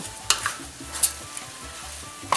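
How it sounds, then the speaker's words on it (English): Paella rice with peppers and onion being stirred in a hot pan, a steady sizzle under scraping strokes and a few sharp clinks of utensil against metal, no voices. "I'm going to mix all that together because I want all those flavors to get into each grain of rice"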